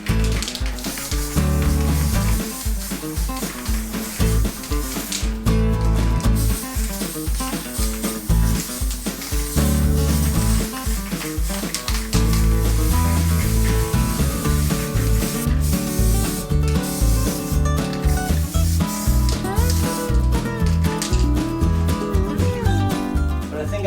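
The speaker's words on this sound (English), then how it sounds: "Keeping the spray cans warm does help the spray." A steady aerosol spray paint can hisses almost continuously outdoors in the cold, broken by brief pauses, loud and close throughout.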